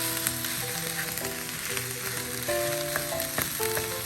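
Fried rice with soy sauce sizzles steadily in a hot pan, a dense continuous crackle with faint clinks of a utensil stirring, close and without talk.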